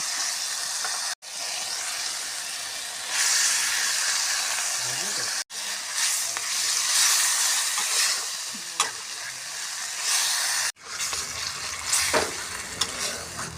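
Spinach hitting a pan of fried spices, a loud continuous sizzle and steamy hiss that swells and breaks off at a few points, with stirring scrapes throughout.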